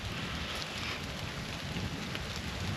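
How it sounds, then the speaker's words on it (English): Steady rain falls, a dense broadband hiss of drops with a low rumble underneath, constant throughout. "it started raining"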